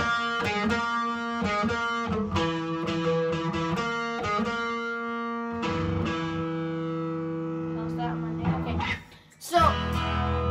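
Electric guitar through distortion playing a cover of Nirvana's "Dive", a steady run of sustained, harmonically rich chords and riffs that carry on for about nine seconds, then a short break before a heavier low chord rings out.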